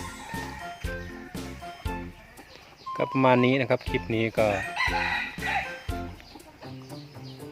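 Laying hens and roosters kept in a farm coop crow and cluck close by, with a loud drawn-out crow in the middle, while someone talks over much of it.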